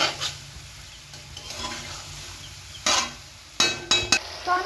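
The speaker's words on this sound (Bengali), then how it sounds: "এবার আমি একটু হালকা নেড়ে নেব।" Boiled vegetables stirred in a wok, with soft scraping and a few sharp clinks of the utensil against the metal, the louder strokes clustered toward the end.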